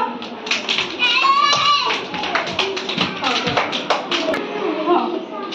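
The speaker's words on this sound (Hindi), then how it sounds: "समस्त ताली मारो" Children clap in unison during a classroom activity, crisp repeated hand claps close by, with a teacher and children talking over and between them.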